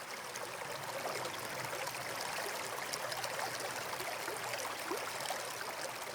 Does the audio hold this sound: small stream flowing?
yes